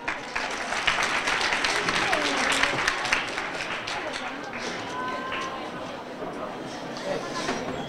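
An audience at a school visit by the Spanish ambassador applauds in a dense, steady burst, with faint voices and crowd murmur mixed in throughout.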